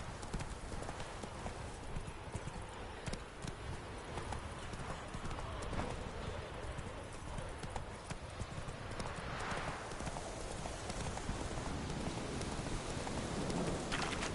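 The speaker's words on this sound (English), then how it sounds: "Run, Roach." Hooves of a horse galloping at speed in The Witcher 3: Wild Hunt, a steady rapid clip-clop running throughout, close and continuous, with rain and rumbling storm ambience behind it.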